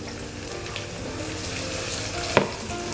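Thinly sliced shallots and garlic fry in a pan, a continuous soft sizzle with stirring scrapes and one sharp clink of the utensil against the pan, close and fairly quiet.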